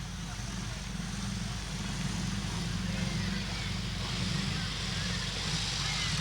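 Vintage wartime army vehicles rumble steadily in a St Patrick's Day parade, a continuous low engine drone with a broad wash of crowd and outdoor noise, moderately distant and fairly even throughout.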